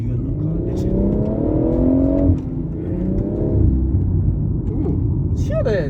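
A BMW M140i six-cylinder with a performance exhaust revs up loudly and close, rising twice in strong sweeps before settling to a rumbling idle, with a brief voice at the end.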